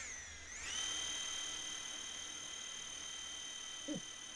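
A small engine on a radio-controlled model plane in a flight simulator spools up to a steady, high, buzzing whine and holds there, fairly faint, with a brief vocal blip near the end.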